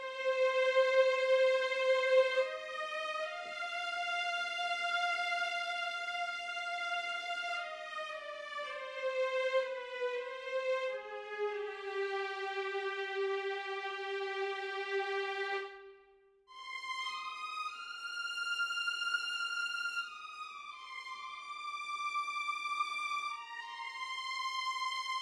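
A sustained violin from a free sample library plugin plays a slow legato melody, notes gliding from one to the next, with a brief pause partway before the line resumes.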